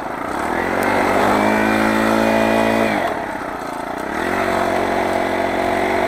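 A motorized bicycle with a small four-stroke Honda GX35-clone engine runs steadily and close, its buzzing drone dipping in revs midway before climbing back up.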